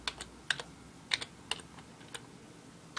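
Quiet, sparse keystrokes on a computer keyboard, a few isolated clicks and short pairs spread unevenly with pauses between them, close and faint with no talking.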